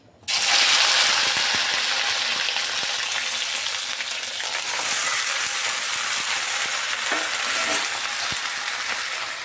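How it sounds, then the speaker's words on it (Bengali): Loud, steady sizzle of okra frying in hot oil in a wok, starting abruptly and continuing throughout with occasional stirring clicks. "কড়াইতে তেল দিয়ে দিলাম, ভেন্ডিগুলি দিয়ে দিচ্ছি।"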